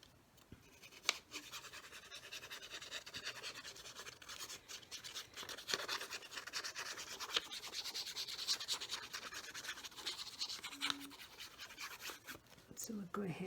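Distress ink rubbed onto a paper edge during card-making, a faint, close, continuous scratchy rubbing with small irregular strokes, very quiet overall.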